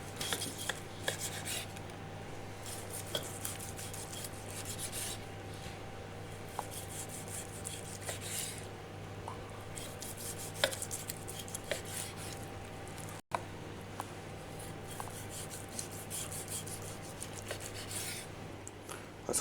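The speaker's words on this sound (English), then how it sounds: "now we're going to carve the meat" A sharp carving knife slicing through cooked steak on a wooden board, a steady soft rasping and scraping with faint clinks, close and continuous, no voices.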